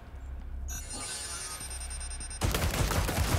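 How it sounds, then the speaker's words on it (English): A turret fires in Resident Evil 4 Remake, a faint rattle under a high whine that gives way to a loud, dense burst of sustained rapid gunfire near the end. "Oh, that's not him. That's shooting."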